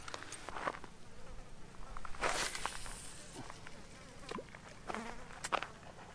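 Flying insects buzz close by outdoors beside the Snake River while fishing, faint whining passes over soft rustling and a few light footsteps.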